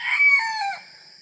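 A small backyard rooster crows once in a rural province, a loud, close, rising-and-falling call lasting under a second before fading out.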